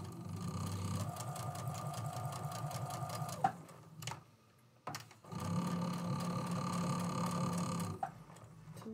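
A home sewing machine hums and chatters steadily through quilting fabric, pauses briefly with a clunk about halfway, then resumes its even rhythmic stitching close by.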